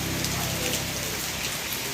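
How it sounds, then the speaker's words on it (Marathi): Heavy rain pours down in a dense, continuous roar of drops striking surfaces, steady and loud throughout. "पाऊस असा मोठा आला की बरं वाटतंय"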